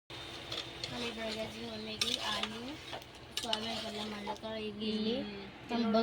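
Soybeans are stirred and fried in a pan in a home kitchen, with a spoon scraping and clinking against the metal and a soft sizzle underneath, while someone talks over the cooking throughout.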